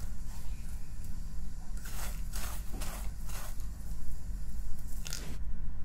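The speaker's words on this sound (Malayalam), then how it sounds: "കണ്ടോ ഇതിൻ്റെ സൗണ്ട് കേട്ടോ, നല്ല ക്രിസ്പി ആയി വന്നുകൊണ്ടുള്ള സൗണ്ടാണിത്." Crisp caramelized filling for stuffed banana fry crunches in a few short, dry bursts, clustered in the middle and again near the end, close and moderately loud over a steady low background hum.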